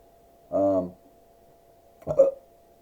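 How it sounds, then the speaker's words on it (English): Two short, low belching sounds, one after another with a pause between, close and fairly loud against silence. "Sorry for that burp"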